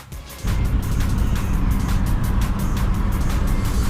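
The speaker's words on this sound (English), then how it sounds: "let's go take it for a test drive, see how it does" A car on a test drive after an outer tie rod replacement, its steady road and engine rumble rising after a brief quieter start and holding loud and constant throughout.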